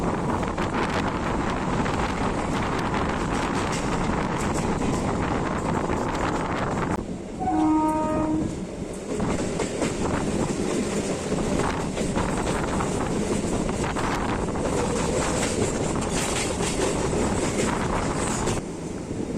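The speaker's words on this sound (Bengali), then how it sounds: "এখন আমাদের সাথে ক্রসিং হবে শিবাজিগঞ্জ থেকে হাওড়াগামী হাওড়া ইন্টারসিটি এক্সপ্রেস" The Howrah Intercity Express rumbles past on a crossing near Liluah, heard from a moving Tarakeswar local: steady rail clatter and wind buffeting, a loud horn blast midway, then continued rolling noise.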